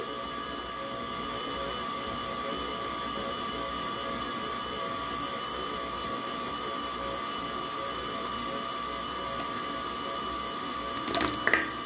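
An electric mixer whips frosting for sugar cookie bars in a steady, unbroken mechanical whir that holds at one level for the whole stretch. A brief clatter comes right at the end, with no voices.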